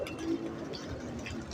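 A pigeon in a breeding loft gives a soft, low coo at the very start, faint and close, followed by quiet room sounds.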